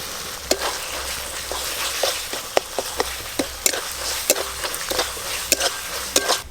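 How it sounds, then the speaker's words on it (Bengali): Spice paste with a little Kashmiri red chilli powder being stirred and sautéed in a pan for a prawn-paste potol curry, with steady frying sizzle and repeated sharp spatula scrapes and taps, close and fairly loud, no voices. "এই মশলা কষতে কষতে চিংড়ি মাছ বাটা দেব।"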